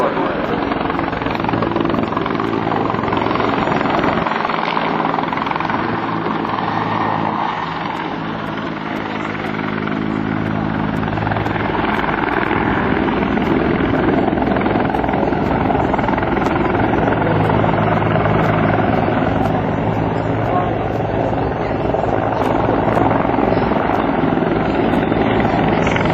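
A CH-146 Griffon helicopter hovers and flies backwards down a runway at an air national guard open house, its loud, steady rotor chop and turbine drone continuous throughout, with an announcer talking over it.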